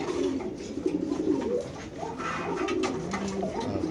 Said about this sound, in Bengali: বিশাল বড় সাইজের কবুতর মাশাআল্লাহ।